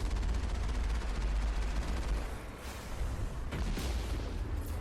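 Geth snipers fire on an armored Mako vehicle in Mass Effect, a dense rattling volley of shots and booms that dips briefly, then resumes with fresh sharp cracks.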